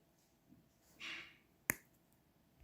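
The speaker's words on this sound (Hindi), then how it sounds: "ये मैंने हल्दी का एक पीस लिया है, इसे मैं हाथ से तोड़ रही हूँ, तो आप आवाज़ सुनिएगा" A single sharp, crisp snap of a dried turmeric root breaking by hand, preceded by a soft rustle in an otherwise quiet room.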